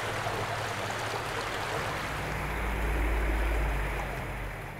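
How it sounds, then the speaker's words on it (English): Cottonwood Creek flows steadily where the Seward Meridian Parkway crosses it, a broad continuous rush of water with a low rumble that swells slightly midway, with no talking. "here we are on Cottonwood Creek, right where the Seward Meridian Parkway crosses it"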